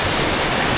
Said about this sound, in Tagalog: napakalakas nung ragasa ng tubig